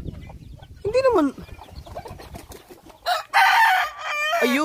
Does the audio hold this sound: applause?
no